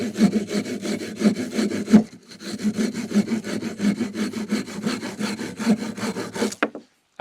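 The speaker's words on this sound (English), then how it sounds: "Or if I want to cut dead wood or seasoned wood" A folding saw cuts through dead, seasoned wood in steady, rhythmic back-and-forth strokes, about a dozen close rasping pulls in quick succession that stop just before the end.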